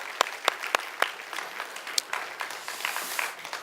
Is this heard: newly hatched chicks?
no